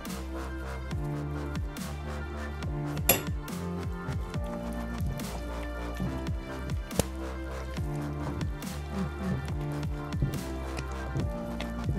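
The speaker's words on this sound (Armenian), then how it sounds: "Հիմա փայտի գթալով լավ հարում ենք, որ ստացվի համասեր այսպեսի գեղեցիկ զանգված" A wooden spoon stirs thick harissa, a porridge of long-cooked wheat and meat, giving soft wet squelches and slaps in an uneven rhythm, close and quiet, with occasional sharper knocks against the pot.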